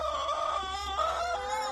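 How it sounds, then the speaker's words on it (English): Rescued laying hens in a small backyard flock of about two dozen birds cluck and murmur steadily, their calls close and overlapping in a continuous chatter with a faint low hum underneath. "Rescued hens. Still keep laying a few, not millions."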